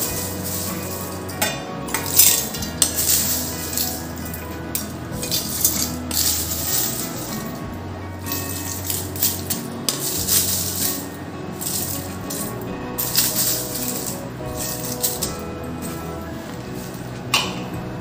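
Dried Kashmiri chilli pieces tip into a steel mixer jar with light rattling and clinking against the metal, a few louder knocks among softer shuffling, close up in a home kitchen.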